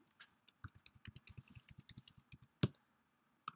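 Passphrase being typed on a computer keyboard, a close, irregular run of crisp key clicks with one louder thump near the end, then a lone click after a short pause.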